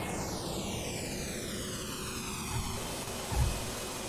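A jet aircraft's engine roars steadily while landing, with a broad continuous rush and a whining tone sweeping down in pitch, then a couple of low thumps near the end.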